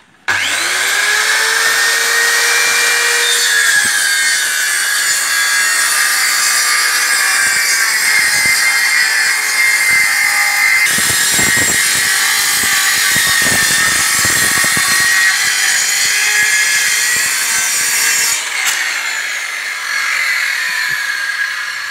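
A circular saw rips lengthwise along a wooden board guided by a straight fence board, a loud, steady whining cut that holds for the full stretch, with brief dips and bumps in the load near the middle.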